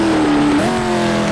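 A Jaguar race car engine in a racing video game revs loudly and continuously, the pitch shifting as it changes gear, with a steady roaring drone throughout.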